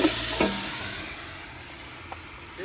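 Tomatoes drop into a spiced masala frying in a pan, a continuous close sizzle with a few stirring scrapes and small knocks, steady and fairly loud throughout.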